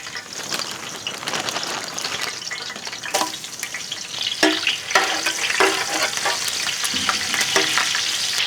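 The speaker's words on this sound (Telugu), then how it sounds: "నూనె వేడైపోయింది. దీంట్లోనే మనం సన్నగా తరిగిన పచ్చిమిర్చి యాడ్ చేద్దాం." Finely chopped green chillies hit hot cooking oil for a fish curry and sizzle loudly and steadily up close, with bursts of sharper crackling and occasional stirring scrapes.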